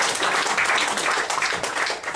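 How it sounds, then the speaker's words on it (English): Dense applause from an audience at a mentalism show, steady and fairly loud throughout. "Give her a round of applause."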